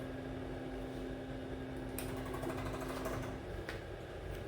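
A ZM-R730A rework machine runs its component placement sequence for a 52 mm SMD connector, giving a steady mechanical hum with a faint whine and light clicks and whirs partway through.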